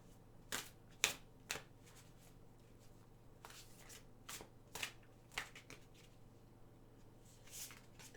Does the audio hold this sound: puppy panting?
no